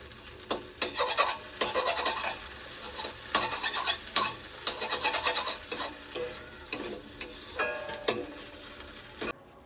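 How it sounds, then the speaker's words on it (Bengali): Fish fat fries in a little oil with onion and chili, sizzling steadily while a utensil stirs and scrapes the pan in repeated bursts, close and without talk. "এদিকে মাছের তেলটা ভাজছি, পেঁয়াজ আর লঙ্কা দিয়ে অল্প তেল হয়েছে"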